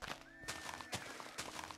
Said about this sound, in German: Ich habe ein Pferd gehört,